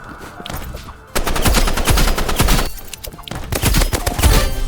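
Rapid bursts of gunfire from the Roblox game Rivals crackle loudly in two dense volleys separated by a short pause, with sharp repeated shots close up.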